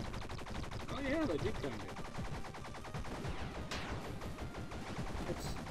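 Rapid bursts of akimbo gunfire from the side-scrolling video game Bleed rattle continuously through the scene, loud and dense, while a voice speaks briefly over the shooting.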